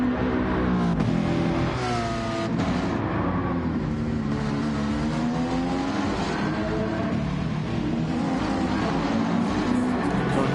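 Gr.4 race cars, including a Porsche Cayman, drone and rev continuously in Gran Turismo 7 at Trial Mountain, engine pitch rising and falling through gear changes as the cars pass and slipstream.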